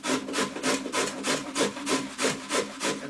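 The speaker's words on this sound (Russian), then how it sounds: "свеклу и берем ее на средней терке, не самой крупной" Beetroot rubbed on a medium grater, about eleven even rasping strokes in a steady back-and-forth rhythm, close and moderately loud with no talk.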